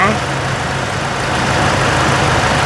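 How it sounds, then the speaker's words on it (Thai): A Toyota Vigo Champ pickup with a 2.7 VVTi petrol engine idles nearby, a loud, steady low hum that holds even throughout without revving. "อันนี้ติดเครื่องอยู่นะครับ"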